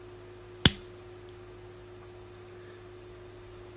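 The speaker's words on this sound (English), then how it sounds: "a clap at the end to sync" A single sharp hand clap, sharp and fairly close, struck once in an otherwise quiet room with a low steady hum, made to sync a recording at a press club event.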